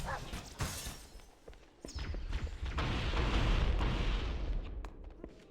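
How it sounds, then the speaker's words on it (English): Explosions boom in the modded shooter Halo CE Restored, several dull blasts and shattering crashes in quick succession, rising into a dense rumbling cluster before fading, fairly quiet overall. "That's a lot of explosions."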